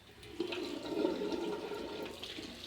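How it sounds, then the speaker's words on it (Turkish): Tap water runs into a sink for hand washing, a steady rushing splash that swells after a brief start and holds at moderate loudness, with no speech over it. "Böyle yaptıktan sonra arkadaşlar musluğumuzu açıyoruz."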